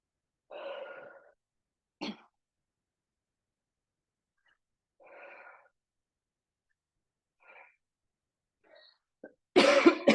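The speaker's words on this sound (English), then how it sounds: "Excuse my coughing. I've got a dry spot in my throat." A person coughs from a dry throat during a fitness workout, a few short separate coughs spaced across a quiet stretch, with a louder burst of throat noise at the end.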